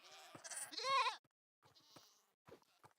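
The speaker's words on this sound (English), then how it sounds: "That cow in the background just died." A cow dies in the Minecraft video game, a short faint bleating cry in the background followed by a few quieter scattered sounds.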